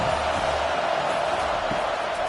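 Home crowd roaring steadily at a Washington college football game as the defense faces third down, a dense distant wash of cheering in the stadium with no clear break.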